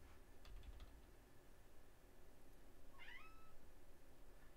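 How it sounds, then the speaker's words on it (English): A house cat lets out one clear, rising meow partway through, standing out against a quiet room with a few light taps earlier. "That was a very loud kitty meow."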